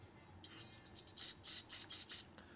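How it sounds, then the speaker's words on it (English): Metal drill shavings are scraped and brushed out of freshly drilled holes in a part, a fast run of close, raspy rubbing strokes in a rough rhythm, faint and without talk. "let me get this here shavings cleaned out real quick"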